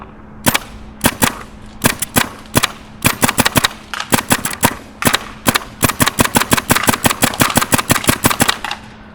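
A Tippmann paintball gun fires dozens of sharp, loud pops close by, first in spaced single shots and then in quicker uneven bursts, with a steady low hum underneath.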